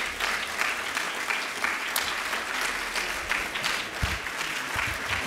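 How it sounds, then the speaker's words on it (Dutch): An audience at a Dutch debate on designer babies and the right to children claps warmly for people gathering on stage, a continuous, even patter of many hands heard from the room, with a few low thumps near the end. "En graag een warm applaus opnieuw voor al die mensen."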